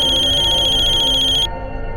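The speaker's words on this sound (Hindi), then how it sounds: "वीरेन, तुम्हारा फोन।" A telephone rings with a rapid electronic trilling tone for about a second and a half, then cuts off, over a low hum of background music, with no one speaking.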